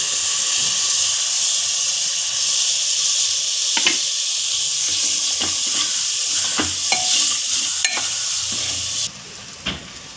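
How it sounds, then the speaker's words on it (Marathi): Tomatoes with turmeric sauté in a hot pan, a loud steady sizzle close by, with occasional spoon scrapes and stirring knocks, easing slightly toward the end. "आणि एवढीशी हळद टोमॅटो टोमॅटो परतून घ्यायचे"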